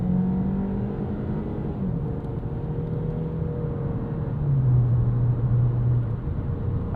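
A 2013 Ford Fusion SE sedan with a small 1.6-litre EcoBoost engine drones steadily from inside the cabin while driving, its low hum rising and falling through gear changes with a brief swell of revs near the end.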